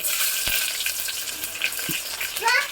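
Onion sizzles in hot oil for a South Indian tempering of cumin, mustard seeds and curry leaves, a steady close frying hiss with a few faint clinks and a stir near the end.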